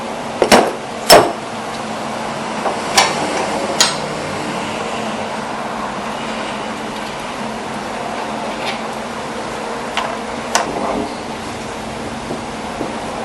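A wrench loosening and removing the nut from a shock absorber bolt on a 1992-1999 Chevy Tahoe, with a few sharp metallic clanks near the start and sparse taps later over a steady hum of background noise.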